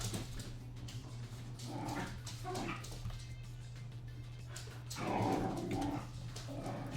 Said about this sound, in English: You can hear my dogs wrestling in the background.